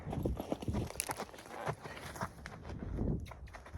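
Hooves of a young horse being saddled for the first time thud and scuff irregularly on the dirt of a round pen, soft and fairly close, with occasional louder strikes.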